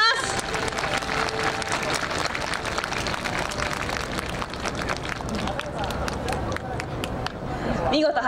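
Audience applause at an air base open house after a security dog training demonstration, a steady dense wash of clapping from a crowd, with speech and crowd chatter mixed in throughout.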